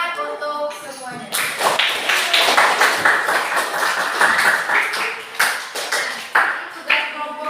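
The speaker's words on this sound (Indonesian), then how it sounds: "Tepuk tangan untuk semuanya." A classroom of students breaks into a burst of applause lasting several seconds, with a teacher's voice heard just before and after the clapping.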